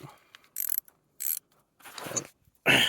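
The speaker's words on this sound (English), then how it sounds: "It takes a 12mm spanner." Clicking, ratcheting bursts from a 12mm spanner adjusting the handbrake on a 2004 Hyundai Elantra, four short separate bouts of mechanical rattling with quiet gaps between them, close by.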